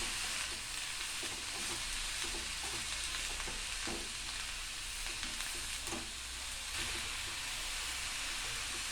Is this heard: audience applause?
no